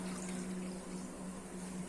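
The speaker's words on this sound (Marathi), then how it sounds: "आता रव्यामध्ये दूध घालून घेऊया" Boiled, very hot milk is poured from a bowl into semolina in a kitchen, making a steady, even rushing sound with a low hum underneath for the whole two seconds.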